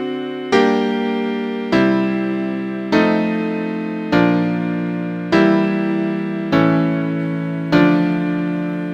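Piano chords are struck one after another at an even pace, seven in all, each ringing and decaying before the next, moving through a progression with a secondary dominant (five of four) chord resolving.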